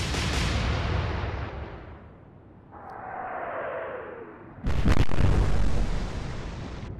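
Heavy naval guns of the battleship Scharnhorst fire in the game Atlantic Fleet. Rumbling background gives way to a sudden loud, close boom, with a rough roar that sustains and slowly fades.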